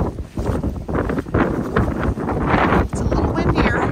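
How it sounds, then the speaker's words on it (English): Strong gusts buffet the microphone at a dark winter campsite in the Badlands, roaring in uneven surges for several seconds, close and loud. "It's a little windier on this side."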